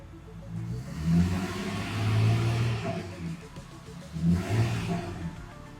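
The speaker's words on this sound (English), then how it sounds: "Let's rev it up" A car engine revs up twice from idle during an exhaust and catalytic converter test, rising in pitch and loudness before settling back, close by with no talking.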